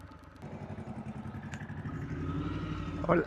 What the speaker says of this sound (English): Me shifting into gear.